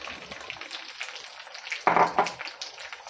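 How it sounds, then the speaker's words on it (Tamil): Shallot paste sautéing in a pan, a soft steady sizzle with a louder burst of frying and stirring midway, close and alone. "இது எல்லாமே நல்லா வதங்கட்டும்."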